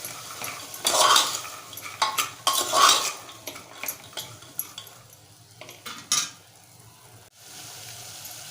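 Sprouted white peas are stirred in a pan for a Malvani curry, with repeated metal spoon scrapes and clanks against the pan over a soft sizzle, loud close bursts coming in uneven clusters before quieting.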